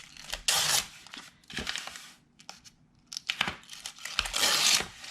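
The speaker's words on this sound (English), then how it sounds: "And then you just tear away your stabilizer." Tacky embroidery stabilizer paper is torn away from a hooped backing in several ripping pulls, each a crisp, close tearing burst separated by short pauses.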